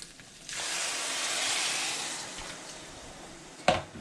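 Boiling hot water pours onto rice in a pot, a steady rushing hiss lasting a few seconds before a brief clink of the vessel.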